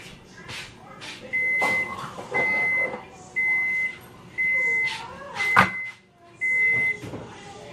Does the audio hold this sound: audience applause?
no